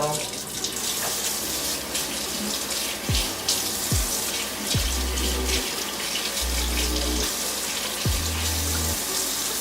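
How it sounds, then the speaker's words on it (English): Hot tap water running steadily into a bathroom sink, a continuous close splashing rush with a few low knocks and clunks under it. "turn the water on, probably like, you want it to be kind of hot"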